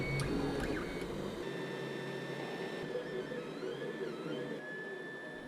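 A 3D printer works on a part with a steady mechanical hum and whine, its stepper motors shifting in pitch as the head moves. No one speaks.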